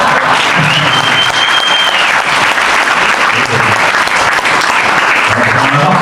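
Members at an auto-cross club's annual general meeting clap hard for a birthday, giving a loud, close, continuous burst of applause throughout.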